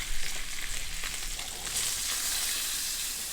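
Rainbow trout fries in a pan of melted butter while butter is spooned over it, giving a loud, continuous hiss with a few scraping clinks at the start.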